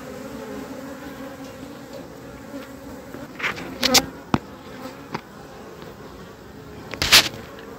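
Honeybees buzzing around a hive outdoors, a steady low hum with several louder, brief buzzing passes close by, no voices.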